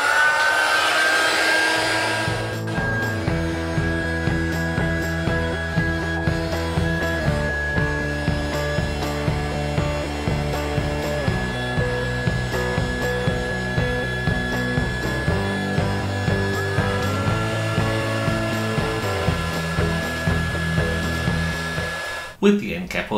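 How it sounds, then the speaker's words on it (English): A heat gun blows a steady, loud whooshing roar for about twenty seconds and cuts off near the end, with a faint tonal hum running underneath. "so I'm just going to use this heat gun"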